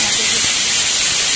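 A small pressure cooker cooking dal on a home kitchen stove lets out a loud, continuous hiss of steam, close and filling the whole moment.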